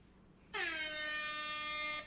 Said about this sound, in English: I was a little bit late with the air horn.